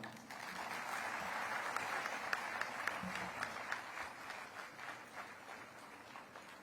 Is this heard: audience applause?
yes